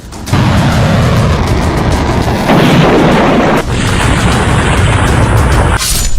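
Strikes in the Israel-Iran war roar as a dense, very loud and continuous wall of booming rumble, swelling briefly midway before cutting off abruptly at the end.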